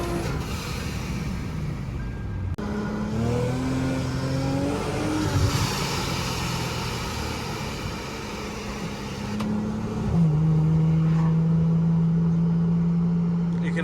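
Supercharged Lexus IS 350 accelerating hard on a 0-60 run near a warehouse, engine note climbing through gear changes with supercharger whine, heard from inside the car with a brief voice mixed in.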